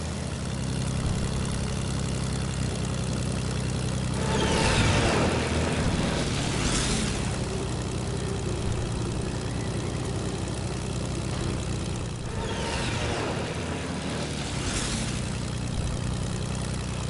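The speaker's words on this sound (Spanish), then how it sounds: "Sí, fue otra avioneta." Small propeller plane in a video game, a steady droning engine hum throughout with two swelling passes of louder buzzing, each rising and fading over a few seconds.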